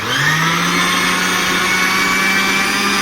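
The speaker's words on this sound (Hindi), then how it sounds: "जरा सा और पीसना पड़ेगा।" An electric grinder runs steadily grinding sesame seeds, a loud continuous motor whine with a whirring hum that holds even throughout, close by with no talking.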